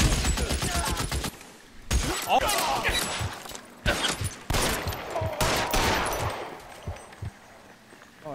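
Bursts of gunfire in the video game L.A. Noire Remastered, rapid rifle and machine-gun shots in clusters separated by brief gaps, with a voice talking over parts of it.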